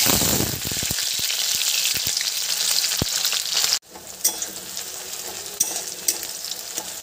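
Chopped onions hit hot mustard oil in a wok with a loud, steady sizzle and crackle. It continues close and alone, with an abrupt dip partway through before the frying settles back to a slightly softer hiss.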